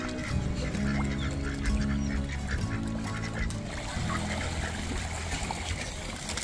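Ducks and geese honk and quack in a busy flock at Lake Mead, snatching food from fish, with water trickling and splashing close by and a faint voice now and then.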